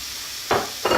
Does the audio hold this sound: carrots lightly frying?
yes